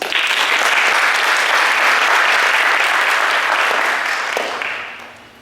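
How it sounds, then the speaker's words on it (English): Audience applause fills a university lecture hall at a talk by a visiting professor, steady dense clapping that holds loud for about four seconds before fading away. "Let's give them a warm round of applause."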